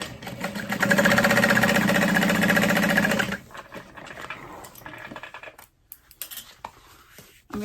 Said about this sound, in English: And I'm gonna sew those pieces together.